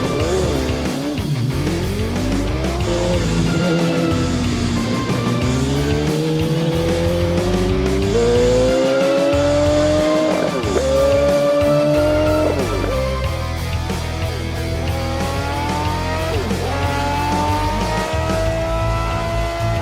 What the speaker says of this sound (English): V8 engine, which was built based on 2 Yamaha R1 engines and has a peak power of 334 horsepower